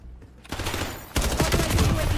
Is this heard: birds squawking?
no